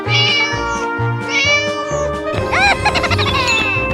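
A cartoon cat meows repeatedly and loudly in a 3D animal sliding video game, several bright meows in a row over jingly game music and chimes, with no speech.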